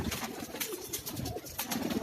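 Pigeons on a rooftop in Karachi coo steadily and close by, a dense layer of overlapping soft cooing calls with no talking.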